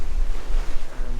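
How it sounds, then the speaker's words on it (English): Sea waves breaking on the rocks at Ballintoy beach on the Causeway Coast, a steady close wash of surf with wind buffeting the microphone and no voices. "the waves, which have now started to get a little bit sort of more vocal"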